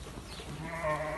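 Lambs and sheep bleating on a village farm as the lambs are separated from the flock, a brief wavering cry rising over a murmur of other animals nearby.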